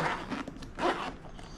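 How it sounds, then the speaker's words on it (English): A zipper is pulled open on the carry case of an Andeman jump pack and tire inflator, with two short rasping bursts of zipping close by and nothing else around them. "It's got a nice little zipper."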